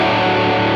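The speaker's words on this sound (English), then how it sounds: "now the distortion pushes more and more in" An electric guitar pushed hard into distortion for a blues-rock riff sustains a thick, saturated chord, loud and close, with a dense buzzing tone and no talking.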